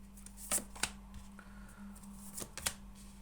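Several quick riffling bursts of cards being shuffled, soft and close, separated by brief pauses over a faint steady hum.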